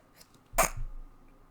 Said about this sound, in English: I did sneeze. Apologies.